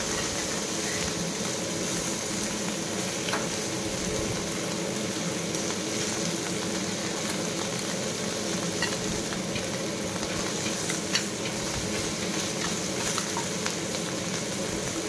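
Fish frying in oil in a pan for a homemade fish dish, a steady, dense sizzle and crackle that runs unbroken throughout, close and fairly loud, with no voices.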